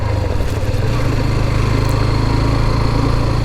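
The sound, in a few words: Hero Xtreme 125R motorcycle engine running during ride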